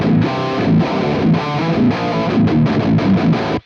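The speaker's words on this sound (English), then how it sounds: "Here's the sound that we have with default settings." Heavy metal guitar run through a Pro F.E.T distortion plugin on default settings, a dense, saturated distorted riff with chugging palm-muted rhythm, loud and continuous before cutting off abruptly at the end.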